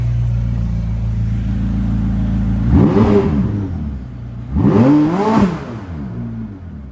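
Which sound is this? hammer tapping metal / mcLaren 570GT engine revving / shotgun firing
mcLaren 570GT engine revving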